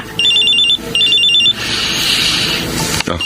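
A mobile phone rings in a dramatic scene: a loud electronic trilling ringtone in two quick bursts, followed by a rush of broad background noise.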